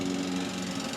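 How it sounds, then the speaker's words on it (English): A lawnmower engine drones steadily nearby, a constant buzzing roar with no breaks. "Here comes that dang lawnmower again."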